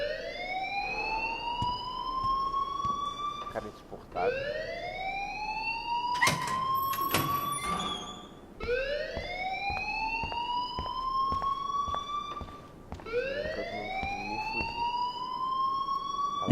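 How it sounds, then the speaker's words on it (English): A fire alarm in the video game Life Is Strange sounds repeated rising electronic whoops, four long sweeps in a steady cycle that stays loud and continuous. Brief clicks and knocks and a short spoken line come through under it. "please turn off that alarm"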